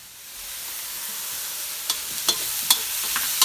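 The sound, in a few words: scallops and shrimp cooking in a pan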